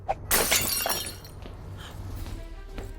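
A magic mirror shatters with a sharp burst of breaking glass, followed by a tinkling scatter of shards that trails off into quieter background sound.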